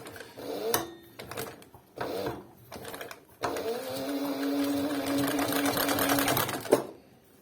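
A heavy-duty Dekor 323 sewing machine motor, short of power on thick leather, starts in short stuttering bursts, then runs steadily for several seconds with a droning hum before stopping abruptly.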